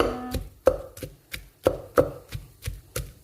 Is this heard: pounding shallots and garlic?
yes